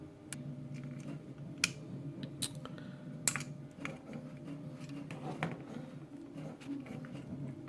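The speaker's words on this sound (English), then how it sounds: "And snip off the other end." Snips clip through a diode lead on a RAMPS 3D-printer control board, giving a few sharp, brief clicks spaced seconds apart over a steady low hum.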